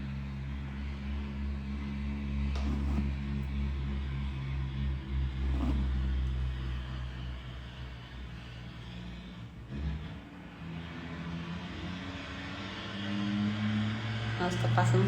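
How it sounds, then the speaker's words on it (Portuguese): A very noisy truck passes by outside, its loud, deep engine rumble filling the whole stretch and swelling again near the end, with faint voices in the background. "tá passando um caminhão super barulhento aqui"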